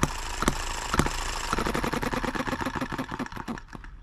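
A small hand-started engine, one that had already run for over two hours, gives a few separate pulls and thumps and then settles into rapid, even firing close by.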